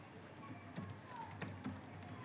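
Python code typed on a computer keyboard, a run of soft, irregular key clicks with a few sharper taps over a low steady hum, close and fairly quiet, with no talking.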